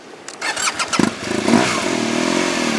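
A motorcycle engine starting to tow another motorcycle: a few sputtering chugs catch into a close, steady running engine note that holds evenly to the end.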